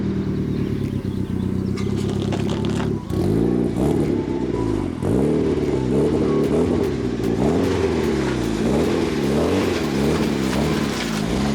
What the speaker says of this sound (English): That's a nice, smooth idle.